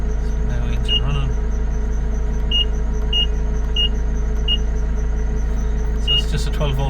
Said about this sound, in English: So now engine running.